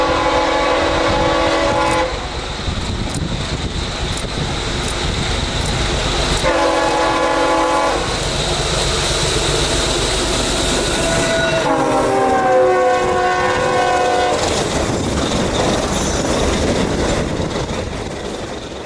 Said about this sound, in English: the sound produced by the train's horn doesn't obtain that whiny, almost squeaky tone until the locomotive passes us